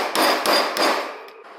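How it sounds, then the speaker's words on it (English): A hammer strikes a metal scope mount being forced onto an M1A rifle, three sharp ringing whacks in quick succession, loud and close, with no talking. "I'll hit that with the hammer. Laid it on here, gave it a couple of whacks."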